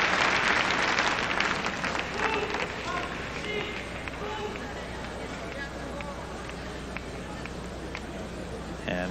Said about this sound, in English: barbell sets the plaudits of the crowd.